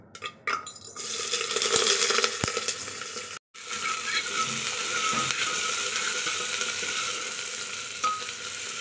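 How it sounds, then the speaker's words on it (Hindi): Chickpeas (chana) cooking for breakfast in a home kitchen give a steady sizzling, frying hiss with a few sharp clinks and scrapes early on and a brief break, no talking. "तो हम नाश्ता यहाँ पे बना रहे थे, चना।"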